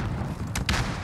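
Distant gunfire in the battle royale game Call of Duty: Vanguard on the Caldera map, two quick faint cracks over a steady rumbling background.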